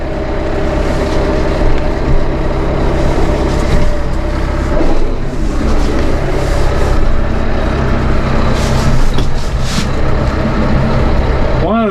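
A Massey Ferguson 2M.60 power shuttle cab compact utility tractor pulls away as the clutch comes up, its engine droning loud and steady throughout, with someone speaking over it.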